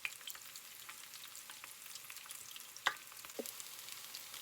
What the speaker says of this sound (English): I want to see how fast they fry.